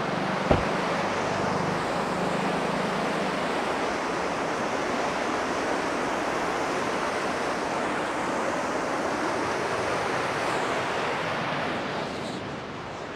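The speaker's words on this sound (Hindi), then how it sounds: "ये दूसरी तरफ नदी है" A river at a crossing by a bridge rushes with a steady broadband roar of flowing water that holds constant throughout, with no talk over it.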